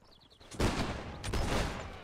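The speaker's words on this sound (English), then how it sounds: "fire at will once in line" Musket volley fire in Mount and Blade Warband Napoleonic-era battle, two loud crackling rifle volleys in quick succession after faint high whistles, close and reverberant.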